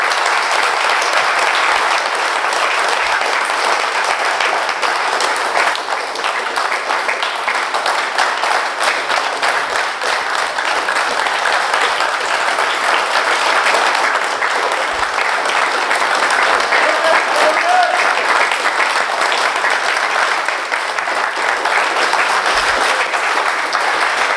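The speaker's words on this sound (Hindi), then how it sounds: "हाँ मारो ताली मारो।" Sustained, even applause from a seated audience at an anniversary celebration event, loud and continuous for a long stretch, many hands clapping at once with no talk over it.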